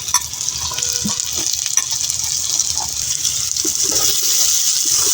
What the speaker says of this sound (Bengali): আবার একটু তেল দিয়ে নিচ্ছি ও কিছু পেঁয়াজ কুচি আর এর সাথে দেব আমি কিছু আলু